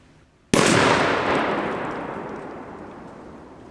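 A single loud, close blast from an old Mossberg 835 shotgun being patterned for turkey hunting. It rises sharply out of near quiet and fades into a long decaying outdoor echo.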